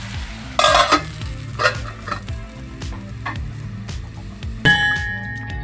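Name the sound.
sautéing tomatoes and dried fish for karuvadu thokku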